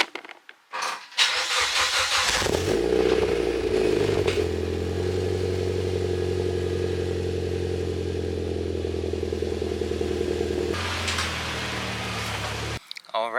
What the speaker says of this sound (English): Let's see if we can get a nice cold start for you guys.